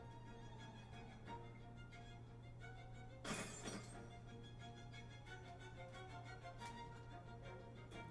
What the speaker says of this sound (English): So she's breaking all the glass.